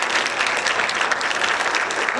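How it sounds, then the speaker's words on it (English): Audience applause at a high school jazz concert, a dense, steady clapping that fills the room throughout. "Give him another round of applause."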